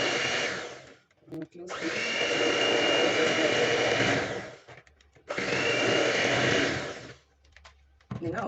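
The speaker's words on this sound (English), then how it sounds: "Alright, so now we whisk. I'll take my electric hand mixer." An electric hand mixer whisks eggless lemon cake batter with sugar, whirring steadily in two long bursts separated by short pauses, with a brief spoken remark in a gap.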